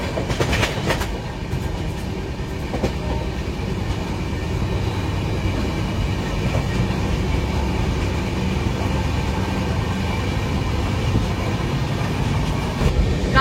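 Kulik Express pulling into platform 3 at Sainthia Junction, a steady loud rumble of rolling wagons with clickety-clack over the rails throughout, no voices.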